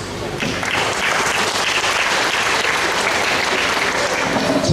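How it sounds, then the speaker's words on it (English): An audience applauds throughout a graduation ceremony, a dense, steady wall of clapping that stays loud and close for the whole stretch. "You all deserve our resounding round of applause."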